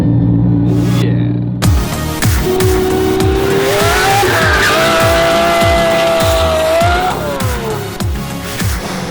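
A carbon fiber Tesla car driven hard and loud, with a rising and falling electric motor whine over squealing tires and rumbling road noise, close and forceful throughout.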